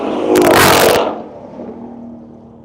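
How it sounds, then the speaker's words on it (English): A race car accelerates on the track at World Wide Technology Raceway during a One Lap of America event. A loud, close burst of engine roar is followed by a fading engine tone as the car pulls away. "Car making some good noises,"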